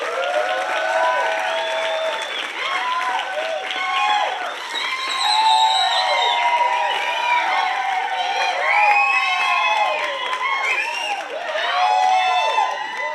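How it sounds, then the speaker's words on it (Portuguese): A church congregation claps and cheers loudly. Many voices shout and whoop in rising and falling bursts over sustained applause, close and full throughout. "Hoje, dá uma salva de palmas para Jesus,"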